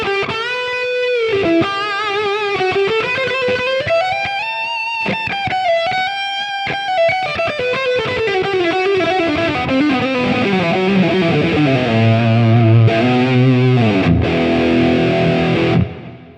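Distorted lead electric guitar, played through a Quad Cortex with a doubler, rings out in sustained, bending melodic lines, loud and alone, ending on low chugging notes.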